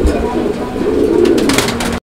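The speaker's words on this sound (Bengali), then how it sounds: "এটা হোয়াইট কিং কবুতরের একটা জোড়া, অনেক সুন্দর ডাকের একটা নর, ভরপুর ডাকের নর" A male White King pigeon coos loudly at close range, one full rolling coo lasting about two seconds, with a faint voice in the background.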